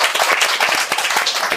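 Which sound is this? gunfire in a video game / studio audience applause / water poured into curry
studio audience applause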